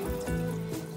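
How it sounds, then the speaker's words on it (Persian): Rinsed, cooled spaghetti is shaken in a colander so leftover water drains away, giving a steady close trickle and splash that holds for about a second with no voices. "یه مقدار آبکش رو تکون میدید تا آب اضافی"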